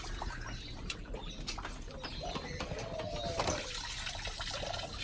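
Water drains out through holes in the bottom of a lifted container, a steady close splashing rush with no talking.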